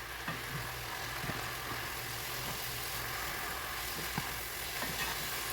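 Onions sauté in a cast iron skillet with a steady, dense sizzle that fills the whole stretch, broken by a few faint clicks of stirring.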